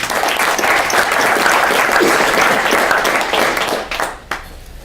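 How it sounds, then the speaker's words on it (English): Dense audience applause at a talk fills the space, then thins and fades toward the end with a few last claps. "Please give them all a big round of applause as well."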